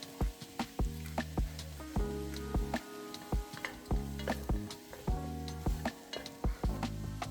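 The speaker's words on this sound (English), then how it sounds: "you're gonna saute that for about 5 minutes until everything is nice and soft" Chopped squash and serrano peppers sauté in a hot pan with a steady close sizzle, broken by rhythmic scraping and stirring strokes and light knocks of the utensil against the pan, with no voices.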